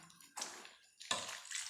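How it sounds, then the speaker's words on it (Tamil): Water is poured into a rice flour and rava batter in a home kitchen, two short splashing pours separated by a pause, close and clear. "இப்போ வந்து தண்ணி ஊற்றிக்கலாம்."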